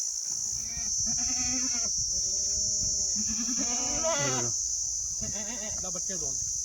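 Kathiawari goats bleat repeatedly in wavering, nasal calls, close by, over a constant high-pitched insect drone.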